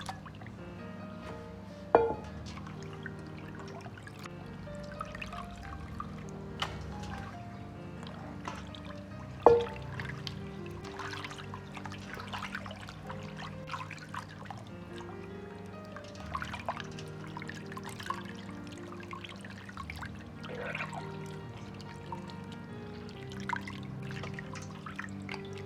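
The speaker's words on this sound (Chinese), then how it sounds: "切好放入清水中，稍微多清洗2遍，去除鱼肉的一些异味" Cut sole fish pieces being rinsed in a bowl of clean water, with soft trickling, dripping and sloshing sounds and a couple of louder splashes, heard close up with no talking.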